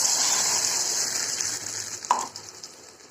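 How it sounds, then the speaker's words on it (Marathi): Onion frying in a pan makes a soft, steady sizzle close by, with one brief clatter near the end as the hiss fades away. "आता हा कांदा चांगला भाजला"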